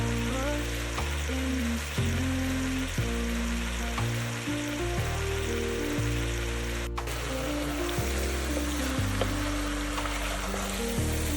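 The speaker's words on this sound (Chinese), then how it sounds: "锅里倒入少许油，下入切好的牛肉煸炒一下。" Sliced beef stir-frying in a little oil in a pot, a steady continuous sizzle with faint scraping of stirring, no voices over it.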